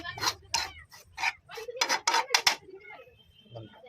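Metal spoon scraping and clinking against a pan while gram flour (besan) roasts in oil for a village-style chicken rassa, a series of short sharp scrapes and taps, close and fairly quiet.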